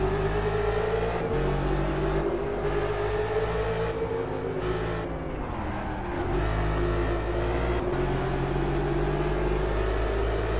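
A Mercedes race car in the Project Cars racing game revs hard, its engine note climbing steadily and then dropping sharply at several gear shifts. The drone is loud and close, with no talk over it.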